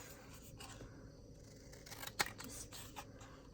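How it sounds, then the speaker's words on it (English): Scissors snipping through a manila file folder, quiet close cutting with one sharper snip in the middle against a faint background. "I just cut it into kind of a little squarish, rectangle-ish shape"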